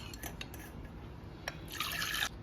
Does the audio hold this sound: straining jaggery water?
yes